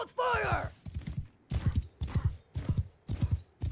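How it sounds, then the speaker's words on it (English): A horse in Bannerlord whinnies briefly, then breathes in heavy, rhythmic pants over hoofbeats clip-clopping in regular bursts, close and fairly loud. "Man, I can really hear my horse panting now."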